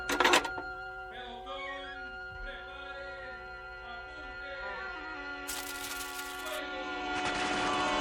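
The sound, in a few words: gunfire, radio drama sound effect of spies being shot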